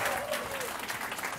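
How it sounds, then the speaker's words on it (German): Applause at a birthday party aboard a cruise ship on the Pacific, a steady burst of clapping from a crowd filling the whole moment, with voices mixed in underneath. "Einen kleinen Applaus"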